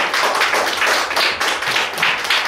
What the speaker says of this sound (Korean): 네, 큰 박수 부탁드립니다.